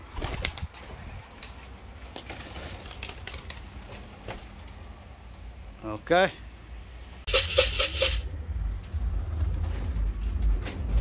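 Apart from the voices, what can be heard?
racing pigeon in a loft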